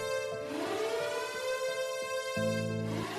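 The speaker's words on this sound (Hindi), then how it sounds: "सायरन्स कंटिन्यूअसली बज रहे थे" Sirens wail steadily without pause, a sustained droning tone with layered pitches holding throughout.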